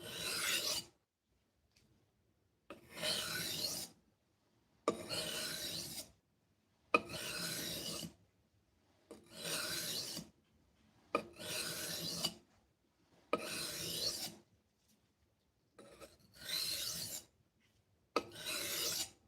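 Hand sanding with fine 1,000 grit abrasive, likely on an epoxy and plywood pendant: eight steady rasping back-and-forth bursts, each about a second long, separated by short pauses, close and alone.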